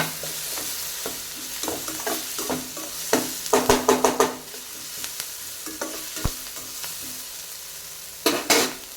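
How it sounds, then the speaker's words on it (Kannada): Onions fry in hot oil and are stirred until brown, giving a steady sizzle broken by repeated scraping strokes of a spoon against the pan, with a loud burst of stirring near the end. "ಇದೆಲ್ಲ ಒಂದು ಬ್ರೌನ್ ಆಗುವಾಗ ಹುರ್ಕೊಳ್ಬೇಕು ಚೆನ್ನಾಗಿ ಒಂದು ಬ್ರೌನ್ ಆಗಬೇಕು"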